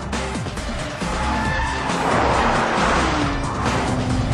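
An Audi TT Mk2 3.2 and a BMW Z4 3.0 race hard, engines revving and shifting with tyres squealing through corners, loud and close with no talking.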